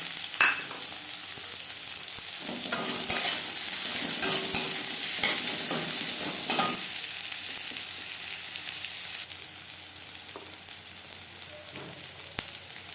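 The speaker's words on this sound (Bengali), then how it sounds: "এক মিনিট রসুন নাড়াচাড়া করে নেওয়ার পর দিয়ে দেবো পেঁয়াজ" Garlic and onion stirred and fried in a pan for a green banana peel mash, a steady hot sizzle with scraping stirring strokes throughout, loud and close, no voices.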